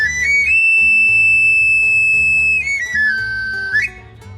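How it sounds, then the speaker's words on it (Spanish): A knife sharpener's whistle shrills high and steady, holding a long piercing tone before sliding down and back up, sounding out alone over a low background rumble. "Y cuando los cuchillos ya no cortaban, llegaba el afilador. No gritaba, porque su silbato era su voz."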